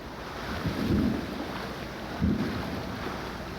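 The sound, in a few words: thunder during a squall at sea, heard from a sailboat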